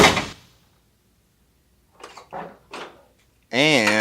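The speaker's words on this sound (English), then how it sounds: "this is what the door sounds like before the weather stripping." The door of a 1987 R10 truck, with its weather stripping missing, shuts in a sharp burst at the start, followed by quiet and a few soft knocks and clunks, then speech.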